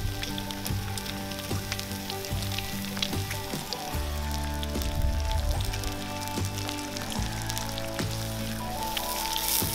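Buttered sliced sandwich bread grilling over a fire pit for an outdoor breakfast, with a steady close crackling sizzle of fat throughout, dense and continuous with faint scattered pops and no talking.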